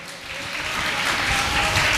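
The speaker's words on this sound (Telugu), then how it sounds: "గట్టిగా చప్పట్లు కొడదాం." A church congregation at Sunday worship claps loudly and steadily, dense clapping that swells slightly over two seconds without speech.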